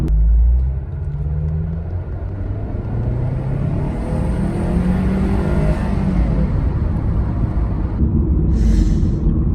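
A Subaru WRX accelerates hard at full throttle, its engine a loud, deep rumble rising steadily in pitch from inside the cabin, with wind and road noise building throughout.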